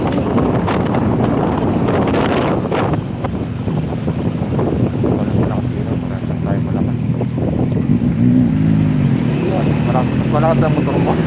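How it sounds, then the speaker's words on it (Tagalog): A motorcycle engine roars steadily while riding in Calauag, Quezon, heavy wind buffeting the microphone throughout, with people talking over the noise. "Malakas ang motor mo."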